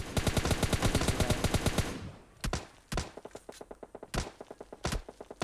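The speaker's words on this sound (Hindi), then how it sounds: "तभी मुझे आगे के घर पे कुछ फायरिंग नज़र आती है, काफ़ी तेज़ फायरिंग हो जाती है वहाँ पे" Heavy gunfire near a house in PUBG Mobile Lite, a fast automatic burst for about two seconds, then scattered single shots and thumps; no talk.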